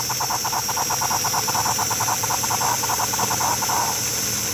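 A model steam engine running flat out on rollers gives a loud, steady high-pitched whine, close up and without pause. A fast, even pulse of chuffs runs underneath it for about four seconds.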